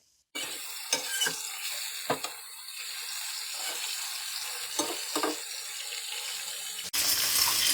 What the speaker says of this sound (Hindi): चिकन को हम तब तक फ्राई करेंगे जब तक ये गोल्डन कलर ना आ जाए